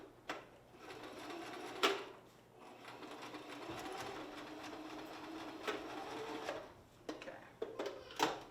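A sewing machine running a straight stitch on a ribbon skirt, a quiet continuous whirring hum with a few louder clicks and knocks as fabric is handled.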